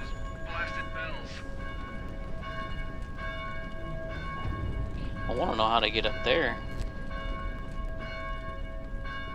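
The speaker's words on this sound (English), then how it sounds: "Maybe you can figure out how to silence those blasted bells." Church bells in the Dead Island video game, a steady ringing tone sustained throughout at moderate level, with someone talking over it.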